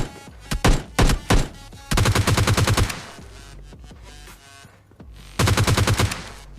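Gunfire in the mobile shooter PUBG Lite: two separate short bursts near the start, then sustained rapid automatic fire lasting about a second, a pause, and another loud rattling burst near the end, close and dry.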